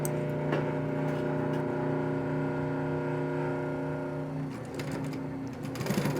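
A Singer 111w151 industrial walking-foot sewing machine stitching through four layers of folded vinyl, a steady mechanical hum with faint rhythmic ticking that shifts near the end as the run finishes.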